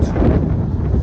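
Strong wind buffeting the microphone outdoors by a roadside garage on a Mustang trip, a loud, continuous low roar with no pauses.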